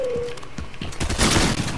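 Rapid video game gunfire from a common shotgun, a burst of sharp blasts in quick succession that grows denser and louder toward the end, with no talking.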